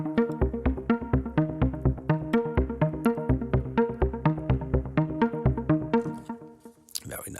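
Omnisphere synthesizer plays a steady run of rhythmic notes over a low bass note, with evenly spaced plucky attacks repeating for several seconds before fading out near the end.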